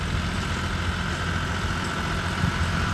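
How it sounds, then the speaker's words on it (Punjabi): A tractor engine running underloaded while pulling a rotavator, a steady low rumbling drone with constant vibration, close and fairly loud throughout, with no voices. "ਜਮਾ ਹੀ ਅੰਡਰਲੋਡ ਆ ਟਰੈਕਟਰ ਜਮਾ ਹੀ ਆਵਾਜ਼ ਬਦਲੀ ਹੈ ਜੀ"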